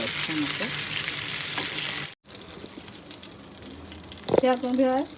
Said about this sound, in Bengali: মাথাটা এভাবে তেলের দিকে ডুবিয়ে দেবো তাহলে মাথার ভিতরে যদি কোনো ইয়ে, কমতি থাকে ফ্রাই হতে হয়ে যাবে